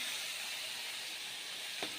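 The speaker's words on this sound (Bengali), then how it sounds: "এই মাছ ভাজা বসিয়েছি" Fish fries in a pan, giving a faint, continuous hiss of oil with one small tap near the end; quiet and distant-sounding, no talk.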